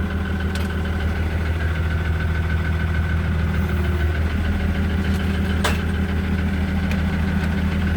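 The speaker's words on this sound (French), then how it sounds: "On va avancer le tracteur." Tractor engine idling close by, a steady low throbbing rumble with a faint knocking pulse, continuous and even throughout with a couple of small clicks, no talking.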